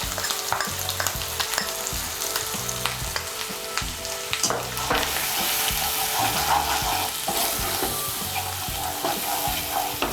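A spice paste of turmeric, chili and cumin powders hits hot oil in a pan for a Bengali fish curry with potato and eggplant, giving a loud, continuous sizzle with stirring scrapes that swells midway.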